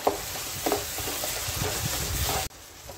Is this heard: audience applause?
no